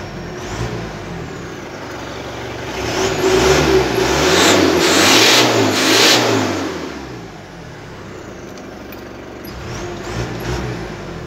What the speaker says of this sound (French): on l'entend très bien le turbo